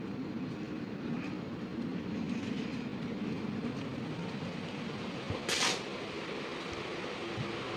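Interior of an empty general coach on the Dibrugarh–Kanyakumari Vivek Express standing at Dibrugarh station platform, with a steady low rumble and broadband hum throughout and a brief hiss burst near the end, no talking.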